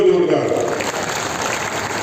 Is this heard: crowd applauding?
yes